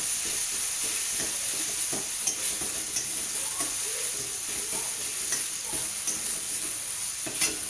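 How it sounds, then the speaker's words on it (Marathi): Curry leaves with a garlic, coconut and green chili paste fry in hot oil for a Marathi kadhi tempering, a steady close crackle and sizzle with occasional sharper pops and faint spoon stirring, no voices. "कढीपत्ता टाकूया आणि लसूण खोबरं आणि हिरवी मिरचीची पेस्ट केलेली ती टाकूया"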